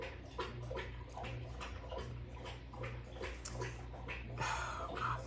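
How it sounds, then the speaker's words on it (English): Dog drinking water indoors, a quiet series of wet lapping splashes repeating irregularly over a low steady hum, faint and without speech. "Apparently Craig is thirsty"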